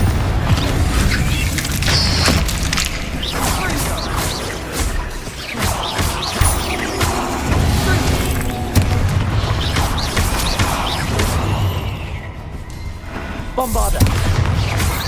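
Bombarda explosion spells cast repeatedly in Hogwarts Legacy gameplay, a dense run of booming blasts and crashing impacts over a loud, busy game soundtrack with a voice calling out throughout.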